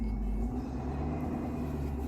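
An old truck idles and rolls slowly nearby on a rainy day, a steady low engine rumble with no voices over it.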